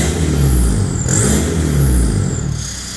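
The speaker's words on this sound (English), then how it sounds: "If you want to know what a straight pipe 2 litre TDI sounds like" A Seat Leon 2.0 TDI diesel with a straight pipe exhaust revs hard and close, a loud, continuous raw drone that swells and dips slightly across a few seconds.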